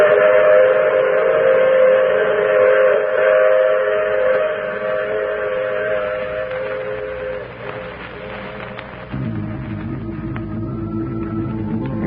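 A steam train whistle in an old-time radio drama blows a long, loud chord that gradually fades, followed by chugging and rumbling of the moving train.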